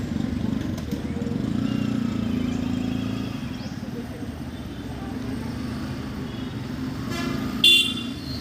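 A vehicle horn honks in traffic, one short toot near the end over a steady low engine and road rumble, with voices faintly in the background.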